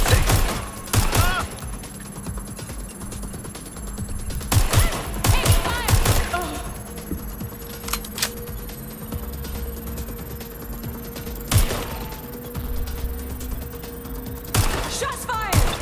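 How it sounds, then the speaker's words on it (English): Gunfire in the Watch Dogs Legion video game: loud, sharp bursts of rapid shots come in clusters separated by quieter stretches of game ambience. Game voices are heard shouting in places. "Shots fired!"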